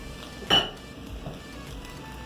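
A single clink of a utensil against a pot as string beans are stirred into saltfish rice, followed by faint soft shuffling of the mix.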